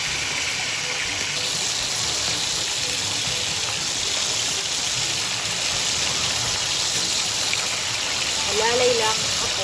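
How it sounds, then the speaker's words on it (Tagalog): A steady heavy downpour in Bohol hisses across the whole clip, dense and unbroken, with a brief voice near the end. "Grabe po ang ulan"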